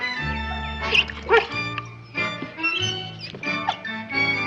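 A puppy gives high, thin yips and soft whimpers over background music, several short cries scattered across the moment.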